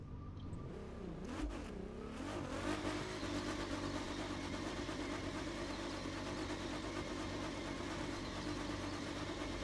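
In The Crew 2 video game, a car engine revs up from a low rumble into a steady, loud, sustained drone, with no voices.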